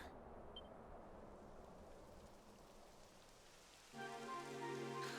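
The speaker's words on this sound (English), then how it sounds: "It would have to go and start raining, wouldn't it?" Soft, steady rain patters in the background of the video game Dragon Quest XI, faint and continuous, before a louder tonal hum swells in near the end.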